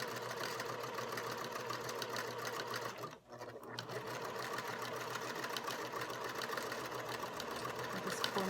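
Close-up, a domestic sewing machine stitches a fabric basket with a fast, steady mechanical whir, briefly pausing and restarting before it runs on continuously.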